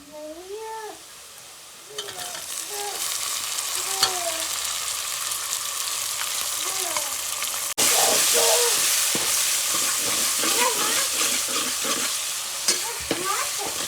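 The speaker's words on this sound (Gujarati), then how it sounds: "હવે નાખી દઈએ એમાં ટમેટા." Chopped tomatoes going into hot oil with ginger-garlic masala for urad dal, a loud steady sizzle with stirring scrapes, while a cat meows repeatedly in the foreground.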